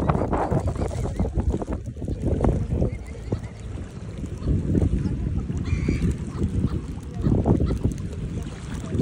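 Swans call while being fed on the water, scattered honks and squawks over a noisy, gusty background, with people talking at times.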